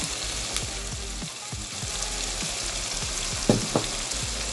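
Chicken giblets and ginger stir-frying in a hot pan, a loud steady sizzle with repeated scraping strokes of the spatula and a couple of sharper clinks near the end.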